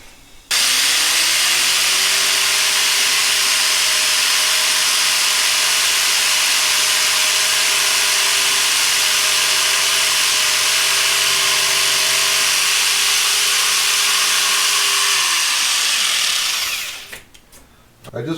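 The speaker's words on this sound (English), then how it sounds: "this is going to be done with the jigsaw" A jigsaw fitted with a fine-toothed wood scrolling blade cuts through vinyl plank flooring in one loud, continuous buzzing run of about fifteen seconds, starting abruptly and winding down at the end, close-up with no talk.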